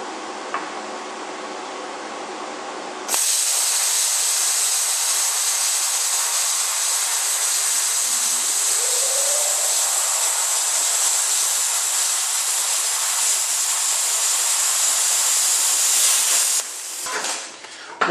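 An Everlast plasma cutter slicing through metal, a loud steady hiss that kicks in abruptly after a few seconds of quieter hum, holds evenly for the cut, then cuts off near the end.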